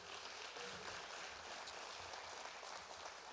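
An audience at a Southwestern Community College education event applauds its host college, a steady, fairly faint wash of clapping that holds evenly throughout with no talk over it.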